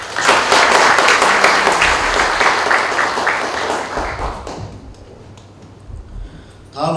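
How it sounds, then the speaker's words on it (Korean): Audience clapping at a trade union general assembly and launch ceremony, loud and dense at first, then thinning out and fading to scattered claps near the end. "큰 박수 부탁드리겠습니다."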